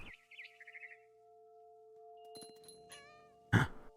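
A cat meows in What Remains of Edith Finch, with a short wavering call at the start, then later chirps and a sharp burst over a sustained tonal game hum.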